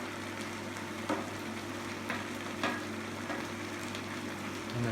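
Pommes darphin potatoes frying in a pan on an induction hob give a soft, steady sizzle with faint crackles and a few brief scraping accents, fairly quiet throughout.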